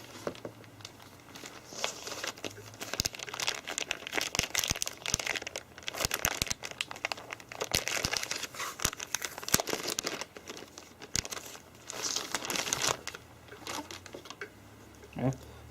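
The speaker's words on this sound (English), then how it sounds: "We can unwrap our new LCD." Plastic packaging crinkles and tears as a new replacement LCD screen for an HP Pavilion dv7 laptop is unwrapped, with bursts of crumpling and sharp rustles across the clip and some talking in places.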